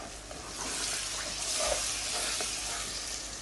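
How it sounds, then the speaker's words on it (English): Two medium-sized tomatoes go into a pan of sizzling potato and pea curry, giving a steady, even frying hiss with faint watery crackle that holds throughout, no voices. "Now we're going to add the 2 medium-sized tomatoes"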